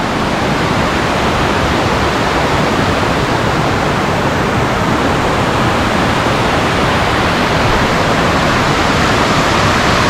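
Maarikkuthu waterfall on the Wagamon route, water sliding over rock and dropping below, roars as a loud, steady broadband rush that fills the whole stretch without pause or voices.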